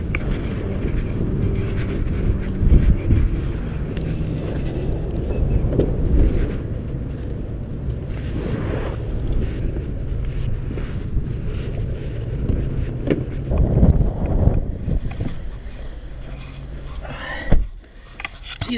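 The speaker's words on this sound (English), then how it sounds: "Jeez, it's windy today." Strong wind buffets the microphone with loud, gusting rumble throughout, rising and falling in bursts, with a sharp thump near the end.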